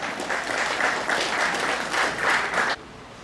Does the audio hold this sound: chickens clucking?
no